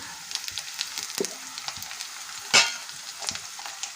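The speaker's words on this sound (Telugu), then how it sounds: "ఉల్లిపాయలు గోల్డెన్ కలర్ వచ్చేసినాయి కదా. ఇప్పుడు పచ్చిమిరపకాయలు వేసుకుందాం." Green chillies go into a pan of onions already fried golden for a mutton curry, giving a soft, steady close sizzle broken by scattered clicks and one loud scrape of a spatula against the pan.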